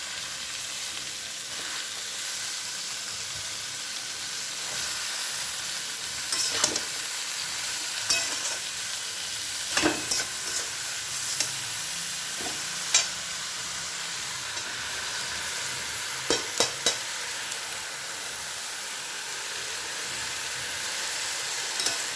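Spinach stirred and fried in a pan, a steady moderate sizzle running throughout with scattered scraping and clinking strokes that cluster in short bursts, close by and with no voices.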